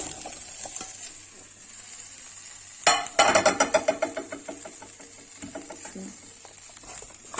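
Onions added to potatoes in a pot, sautéing with a soft steady sizzle, then a burst of sharp clattering stirs and sizzle around the middle that fades back to a quiet hiss.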